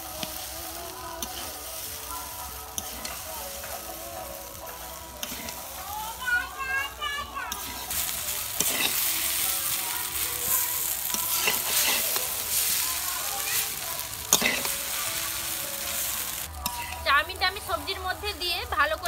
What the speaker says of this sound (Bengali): সবজির মধ্যে দিয়ে ভালো করে এটাকে ভেজে নিতে হবে।